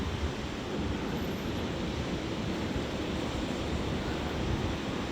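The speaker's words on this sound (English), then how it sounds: "Obviously the sea's a bit too rough today." Rough sea breaks on Poniente beach in Benidorm on a red flag day as a constant, fairly faint roar of surf. Some wind rumble rides under it and no voices are heard.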